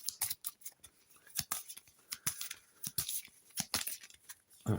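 Playing cards from a board game deck being shuffled, a run of quick papery riffles and snaps, close and fairly loud, with no voices.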